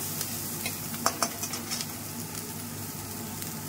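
Onions sizzle and crackle in hot oil left from frying pointed gourd, with a few sharp stirring scrapes near the start, then a steady frying hiss.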